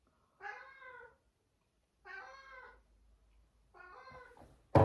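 A house cat meows three times in drawn-out, plaintive calls, each about half a second long and evenly spaced in a quiet indoor room, with a brief loud knock right at the end.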